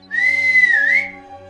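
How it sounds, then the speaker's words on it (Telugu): A boy's sharp whistle in a Telugu cartoon, thrown out as a challenge to a rhinoceros: a single sustained tone lasting about a second that rises, dips and lifts again, loud and clear over a quiet background. "ఛాలెంజ్ చేస్తున్నట్టు తొడ చరిచి ఈల వేశాడు"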